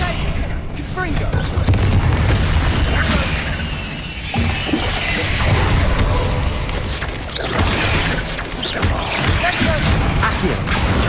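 Confringo fire-blast spell explosions in Hogwarts Legacy on PlayStation 5, a dense run of loud booming, shattering blasts layered with battle effects, while a voice repeatedly shouts spell names over the din.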